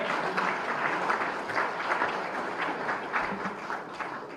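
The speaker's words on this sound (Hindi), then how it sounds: "एक बार जोरदार तालियों से स्वागत करें" Audience at a Pravasi Rajasthani Divas government event giving a round of applause, a steady, fairly soft wash of many hands clapping, slowly tapering toward the end.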